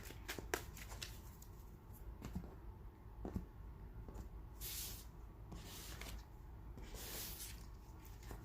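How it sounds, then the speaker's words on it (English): Tarot cards being shuffled, quiet and close, with soft repeated riffling and rustling bursts at an uneven rhythm against faint background hiss and no talking. "I've already been shuffling, so I'm just really going to finish up here"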